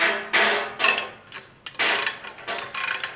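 A torque wrench tightens clutch bolts to 35 foot-pounds on a 1991 Chevy C1500 pickup, giving close, moderately loud bursts of ratcheting clicks in several short runs separated by brief pauses, with no talking.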